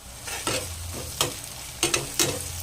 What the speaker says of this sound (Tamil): உப்பு சேர்த்துட்டு நல்லா கிளறி விட்டுக்கலாம்.